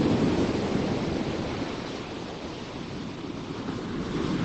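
Waves breaking and washing on a beach on England's south coast at sunset, a steady broad surf roar that swells and eases slightly, with some wind rush against the microphone and no voices.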